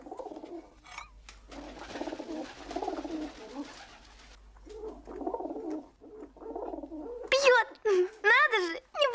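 Pigeons coo close by, with a run of soft, throaty warbling calls that grows louder toward the end, mixed with people talking earlier on.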